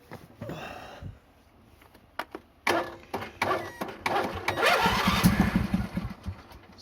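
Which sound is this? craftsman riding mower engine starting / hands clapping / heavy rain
craftsman riding mower engine starting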